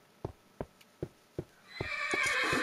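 A horse in Minecraft clip-clops four times at an even pace, then lets out a loud, drawn-out whinny that fills the rest of the moment.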